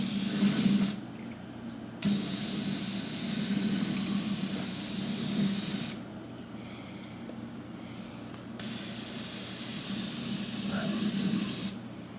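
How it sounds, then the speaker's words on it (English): Brake cleaner sprays from an aerosol can onto the oil filter mounting face of a Hydro-Gear transaxle, giving a loud, close hiss in long bursts separated by short gaps. "I'm gonna take some brake cleaner. Just kind of clean out the oil filter mounting face before we screw the new filter on."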